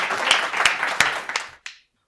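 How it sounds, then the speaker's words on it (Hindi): Applause from the audience at a Hindi comedy poetry show: a short burst of clapping with a few sharp claps standing out, ending abruptly. "जोरदार तालियां चलेंगी।"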